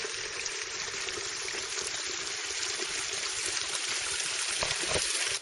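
Stream water runs steadily into a small farm dam, a continuous broadband rushing and trickling that stays even and fairly close throughout, with no talk.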